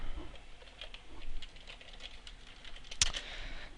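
Typing on a computer keyboard, quiet quick key taps in an uneven rhythm close by, ending with one sharper, louder keystroke near the end, no talking.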